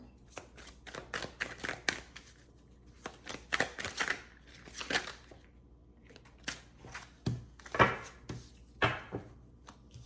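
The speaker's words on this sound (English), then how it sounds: "Cards got kind of crooked from all my shuffling." Tarot cards being shuffled in quick riffling bursts, crisp papery flutters repeating with short pauses between, close up and fairly quiet.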